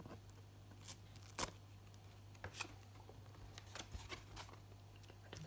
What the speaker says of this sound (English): I'm just cutting towards my chipboard and cutting a wedge out of the tape